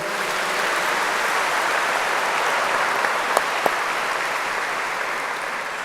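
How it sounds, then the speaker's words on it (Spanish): A church congregation applauding loudly, a continuous wash of clapping at steady volume with a couple of sharp louder claps standing out midway. "Alabe al Señor con un fuerte aplauso bien grande."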